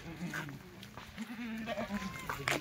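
Kathiawari goats at a wholesale goat seller's yard bleat faintly in a few wavering calls, distant and quiet amid low outdoor background noise.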